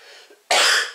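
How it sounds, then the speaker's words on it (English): A single sharp cough bursts out halfway through, loud and close, after a faint quiet stretch, and trails off into a breathy tail. "sorry for coughing a bit that."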